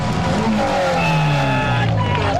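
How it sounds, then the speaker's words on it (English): A WTCC touring race car revs hard in victory celebration at the 2007 Porto round, engine pitch sweeping up and down loudly under a commentator's voice and crowd noise. "revving the nuts off the engine just to celebrate"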